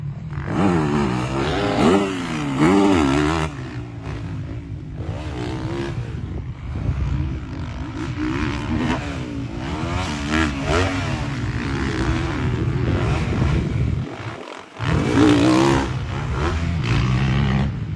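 A 450 motocross motorcycle rips around the Club MX training track, engine roaring loud and close with repeated revving surges and shifts, dropping briefly near the end before blasting back up.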